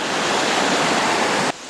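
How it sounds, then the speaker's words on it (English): Rushing water from a hiking-trail waterfall with a small stream flowing in beside it, a steady dense roar close by that drops abruptly to a quieter wash near the end. "next to the waterfall there's a little stream coming in"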